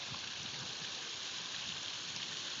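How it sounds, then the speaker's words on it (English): A spring multi-shelf waterfall in a steep Eastern Ozark ravine pours as a steady, dense rushing hiss, constant and fairly near, with no voices. "waterfall number 7."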